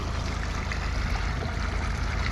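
Clean water pours continuously at a village waterworks, a constant rushing wash filling the scene at close range without pause, and no one speaks.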